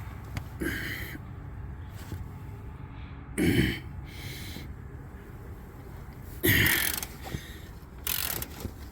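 Ratchet loosening the 21 mm upper shock bolts on a 2012 Chevy 3500HD, several short bursts of clicking spread across the clip, fairly close, with quieter mechanical rattles between and no talking.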